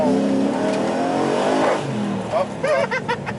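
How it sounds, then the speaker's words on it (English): A modified Chevy Caprice police car revs its engine, exhausting through cutouts in the rear and out the tailpipe tip. The rising, loud engine sweeps sit close, and a voice comes in near the end. "These cutouts are directly in the rear, and it's exhausting through the tailpipe, through the exhaust tip."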